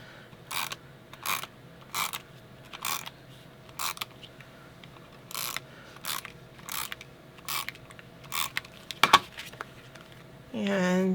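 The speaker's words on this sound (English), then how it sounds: "we're going to put some adhesive on the back of this" Adhesive goes onto the back of a photo for a travel scrapbook album in a series of short, crisp ratcheting clicks and scrapes, repeated at uneven intervals in a quiet room, ending with a louder rustle.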